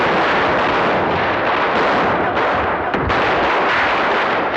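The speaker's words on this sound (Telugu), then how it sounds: "టపాకాయలు కాల్చిపోతే ఎలా?" Firecrackers bursting during Diwali, a loud, dense, continuous barrage of crackling blasts that merge into a roaring wash, close and unbroken throughout, with no voices.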